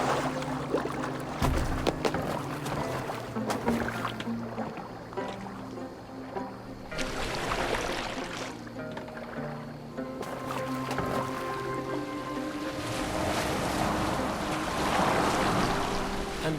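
A boat steered across open water in Assassin's Creed Valhalla, with steady wash of waves and wind against the hull and rhythmic rowing swells, loud and continuous without speech.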